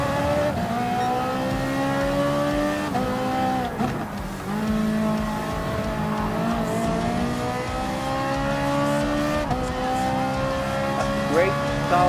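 A Ferrari 458 Italia GT3 race car in Gran Turismo Sport howls through rising and falling gear changes, with other cars close by as it overtakes, under a continuous commentator's voice.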